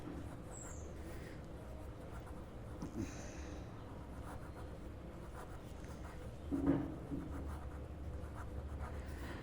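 Pen scratches across paper during a Class X maths revision lesson, faint soft strokes in a quiet room with a light rustle partway through.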